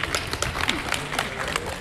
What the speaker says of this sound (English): Please, a round of applause for stars.